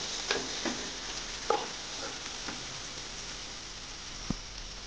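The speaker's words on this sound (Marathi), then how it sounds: "आपले बटाटे, छान असा हलवून घेणार आहोत." Mashed boiled potatoes for an aloo paratha filling are stirred, giving a few soft, sparse scraping strokes and a single sharp knock near the end over a faint, steady background hiss.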